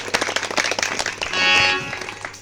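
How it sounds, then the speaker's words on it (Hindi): A short burst of scattered hand claps from a small group, close and fairly loud, with a brief tonal sound rising in the middle. "सब लोग ताली बजा दीजिए, आराम से मीठी ताली बजाइएगा।"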